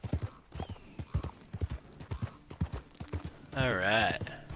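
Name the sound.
horse walking, hooves clip-clopping, video game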